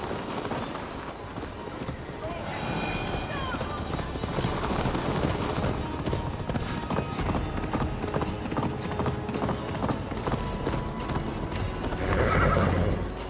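A horse gallops and neighs in Assassin's Creed Valhalla, with rapid steady hoof clip-clops running throughout, a loud whinny near the end and voices talking over the ride.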